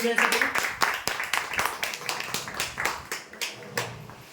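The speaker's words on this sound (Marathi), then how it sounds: "जोरदार टाळ्या" A crowd applauds a winner announced at a prize lottery draw, giving a burst of rhythmic, evenly spaced claps that carries on steadily and gradually softens.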